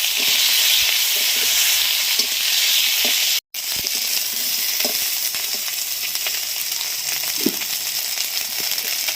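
Eggplant and potato pieces with four green chillies fry steadily in hot oil in a pan, a loud continuous sizzle with soft stirring scrapes and one brief break partway through.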